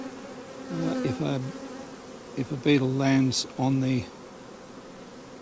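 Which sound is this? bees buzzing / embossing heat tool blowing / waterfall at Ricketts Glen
bees buzzing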